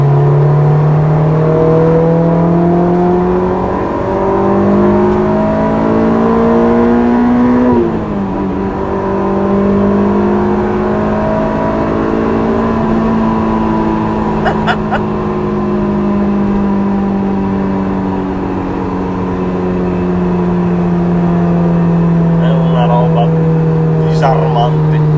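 A Honda S2000 with an aftermarket exhaust revs up and down repeatedly, a loud, close, raspy engine note that rises, dips around the midpoint, then climbs and holds again with no pause throughout.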